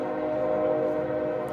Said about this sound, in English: I had to wait until the train passed because we live by the train